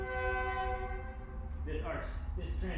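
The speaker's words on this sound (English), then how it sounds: "the train driving by" A train horn sounds as the train passes nearby, a sustained harmonic blast that gives way to rumbling wheel and rail noise, with faint voices underneath.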